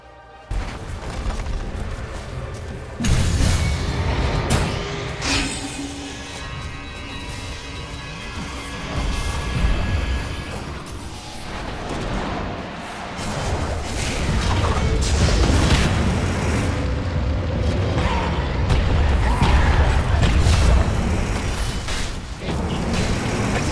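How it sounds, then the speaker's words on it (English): A middle tower comes under attack and is destroyed in Dota 2: a busy stream of game combat with clanking mechanical impacts, booms and crashes, loud and continuous over many seconds. "Dire's middle tower has fallen."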